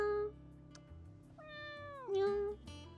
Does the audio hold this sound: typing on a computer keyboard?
no